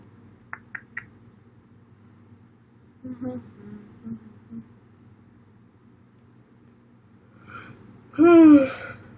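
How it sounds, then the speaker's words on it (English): A person yawns once near the end of a quiet indoor live stream, a close, drawn-out vocal yawn that rises and falls after scattered faint clicks and soft breaths. "I love yawning."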